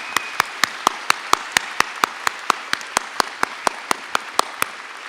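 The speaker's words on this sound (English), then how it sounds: "join me in giving them a round of applause" Sharp, evenly spaced claps at a 2019 college commencement ceremony honoring student veterans, a loud rhythmic beat over a softer wash of crowd applause.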